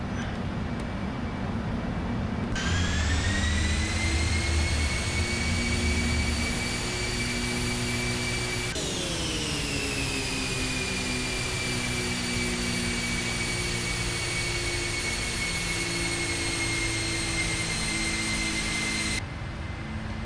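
PMDG 747-400 jet engines roar steadily through a takeoff in a flight simulator, a loud continuous rumble with rising whining tones that climb and shift partway through, with no voices.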